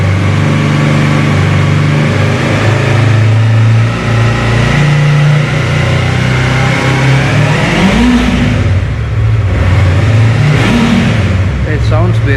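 Yamaha YZF-R3 motorcycle engine with a freshly changed air filter, revving loudly and continuously with deep, bassy rising and falling pitch sweeps, throttle blips near the end, under steady engine drone.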